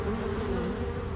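Swarming bees buzz in a dense, continuous drone that holds steady and loud throughout, with no voices.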